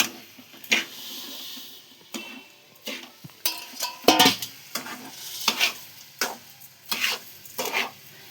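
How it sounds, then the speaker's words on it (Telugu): Semolina (rava) is added to a pan and stirred, giving quiet scraping and gentle sizzling sounds in short irregular bursts, close and fairly soft, with no talk. "ఇదండి ఇప్పుడు రవ్వ వేసుకుంటున్నానండి"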